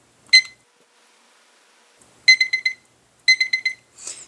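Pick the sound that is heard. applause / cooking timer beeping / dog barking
cooking timer beeping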